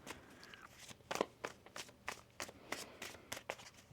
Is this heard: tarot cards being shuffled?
yes